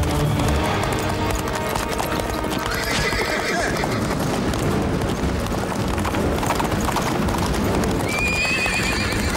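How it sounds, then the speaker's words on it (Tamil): Cartoon wild horse galloping with fast, continuous clip-clop hoofbeats, loud and close, mixed with neighing and whinnying and dense action-scene sound throughout. "ஸ்பீட் ஒரு காட்டு குதிரை."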